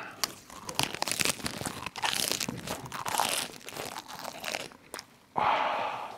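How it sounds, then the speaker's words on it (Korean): Crisp lettuce wrap with seasoned pork being bitten and chewed up close, dense crunching and leafy crinkling in rapid succession, loud and continuous with a brief pause near the end. "상추 ASMR."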